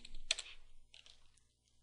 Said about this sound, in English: we'll type in ls